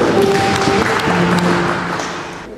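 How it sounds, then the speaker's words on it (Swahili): An audience at a church district hall inauguration and general meeting claps in thanks, a dense burst of applause that fades out over a few seconds. "Naomba tupige makofi kwa kushukuru."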